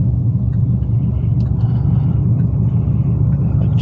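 A 2002 Chevrolet Camaro SS with 3.90 gears rumbles at a low, loud and steady idle from inside the car after a 0-60 run.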